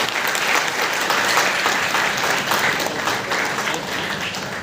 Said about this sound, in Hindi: साथियों, ताली बजती रहनी चाहिए।